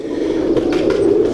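Pigeons kept by a breeder in Lahore coo softly nearby, a low continuous rolling coo with faint background noise and no speech.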